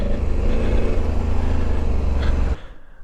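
An adventure motorcycle on street tires rides off along a dirt trail, its engine loud and close with a steady low rumble that cuts off sharply near the end.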